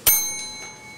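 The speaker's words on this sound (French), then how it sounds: "Le début de cette période vous sera annoncé à l'aide de cette cloche." A single bright bell strike rings out sharply, signalling the start of a timed period, then its clear metallic tone lingers and slowly fades.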